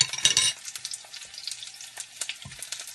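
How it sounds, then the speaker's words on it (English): Onions fry in a pan with a busy, close crackle that starts with a louder burst of stirring, then settles into softer intermittent sizzling and pops, with no one speaking. "And the onions are still frying."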